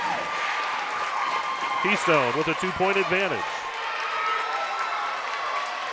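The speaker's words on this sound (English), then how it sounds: "Boy, this crowd is really into this one" A crowd at a District 9 Class 2A volleyball championship between Keystone and Kane cheers and applauds steadily beneath a commentator's voice, a continuous wash of noise with a few louder swells.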